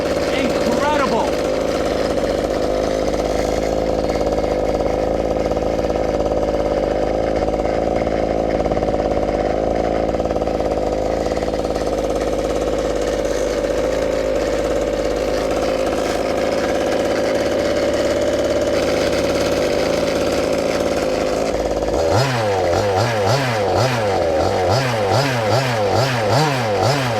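A 1/5 scale gas RC buggy engine fitted with a 30 Degree North pipe, a loud raspy two-stroke drone held steady for a long stretch, then wavering revs as the throttle is blipped up and down.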